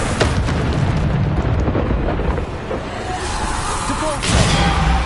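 A Bombarda spell explosion from the Hogwarts Legacy video game bursts loudly amid a dense, rumbling wash of combat noise, followed by a sustained booming roar with another surge near the end.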